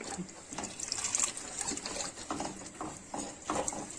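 Liquid pours into a pot while preparing baked pasta and a bone-in casserole, a moderately loud, uneven splashing trickle that runs steadily for several seconds.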